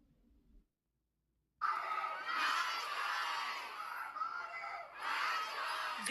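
Protesters at an abortion-rights rally shout together, a loud dense roar of many voices that begins abruptly after a short silence and continues steadily with swelling cries.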